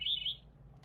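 Thrush song played from a sound board book: a short, bright chirping phrase lasting under half a second, fairly close and clear, then quiet with faint background hum.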